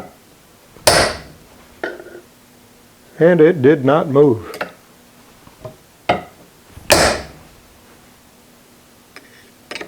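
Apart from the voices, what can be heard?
hammer striking lathe spindle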